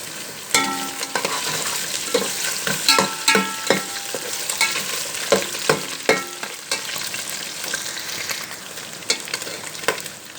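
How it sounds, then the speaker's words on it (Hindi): Chicken sizzles in a pan while a spoon stirs it, sharp scraping clicks scattered over a constant frying hiss, close and moderately loud with no voices. "अब इसमें चिकन डाल देंगे हम। इसको कर लेंगे फ्राई अच्छे तरीके से।"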